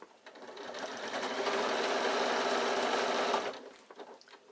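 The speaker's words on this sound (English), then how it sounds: "we're going to sew another row of stitches just inside those that we've got there" A sewing machine stitches a row on a fabric bag, a rapid even mechanical whir that ramps up, runs steadily for a few seconds, then stops, followed by faint handling noises.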